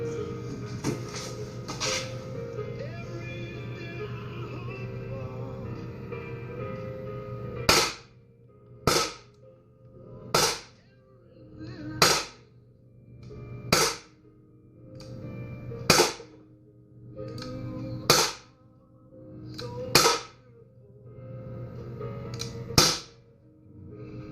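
A CZ P-09 pistol fires about ten sharp, loud shots in an even, steady rhythm until the magazine is empty, after a stretch of quieter handling noise.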